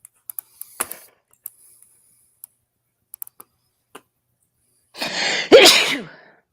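A single loud human sneeze near the end, preceded by scattered light computer keyboard clicks and taps.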